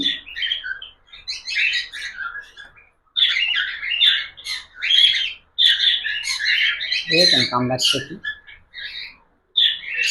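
Budgerigars at a shop chirp and squawk in a dense, continuous chatter of close, bright calls, with a harsher squawking burst near the end.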